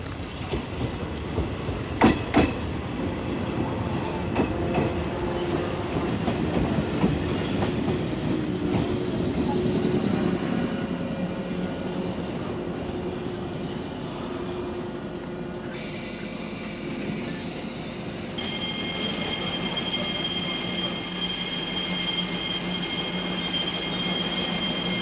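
A train pulls into a station, rumbling and clattering steadily on the rails up close, with occasional wheel squeals and a rising metallic whine toward the end.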